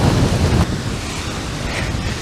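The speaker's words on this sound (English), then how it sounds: "like the waves and stuff." Waves lapping on a lake at Elk Island National Park make a steady outdoor wash with wind buffeting the microphone, louder in the first half second, then constant.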